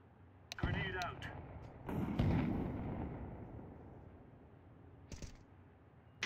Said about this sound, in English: Grenade out. Grenade out.